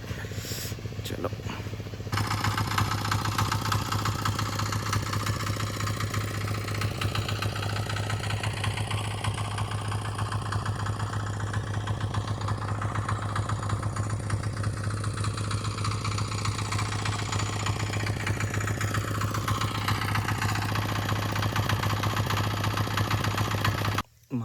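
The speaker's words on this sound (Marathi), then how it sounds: "आता ट्रॅक्टर आतमध्ये घेऊन येतो आणि कामाला सुरुवात करतो पटपट" A farm tractor's engine runs steadily and close by for the whole stretch, a loud, even mechanical drone with a low hum underneath and some rattle on top.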